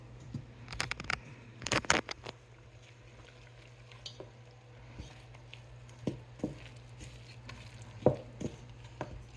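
Flour being stirred into a yeast mixture in a bowl to make sticky, no-knead artisan bread dough, with scattered scraping and clacking strokes, a few louder knocks early on and softer ones later, over a low steady hum.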